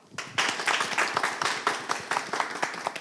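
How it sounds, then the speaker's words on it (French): Pupils of a school group clap together in a sustained burst of applause, a dense patter of many hands that starts after a brief quiet moment and carries on at a steady, fairly close level. "Ils vous disent bonsoir aussi en applaudissant"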